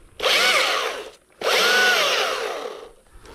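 Two loud bursts of a high, buzzing chainsaw during hazard tree work, each running about a second, separated by a short pause, close to the listener.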